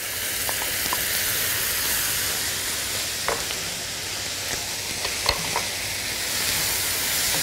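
Tomatoes hitting a hot pan of spicy shakshuka give a steady, broad sizzle and hiss that runs throughout, with a few faint clicks of stirring over the frying.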